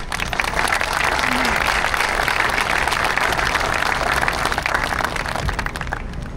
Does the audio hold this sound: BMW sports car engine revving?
no